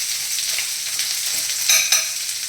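Kadai paneer masala frying in a pan with stirring, a bright continuous sizzle broken by a few short scraping stirs near the end, close and steady with no talking.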